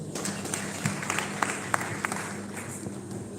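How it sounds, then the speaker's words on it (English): An audience at a youth leaders meeting in Kenya claps, a fairly distant, moderate round of scattered hand claps over a noisy room hum. "Give him a clap."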